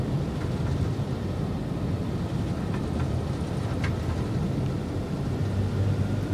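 Steady low rumbling drone of Douglas DC-3 Dakota piston engines throttled back to idle in Microsoft Flight Simulator 2020, a constant broadband hum with no speech.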